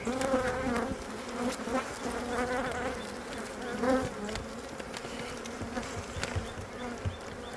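A honeybee guard buzzes persistently close to the beekeeper during a hive inspection, giving a loud, wavering drone over the background hum of the colony.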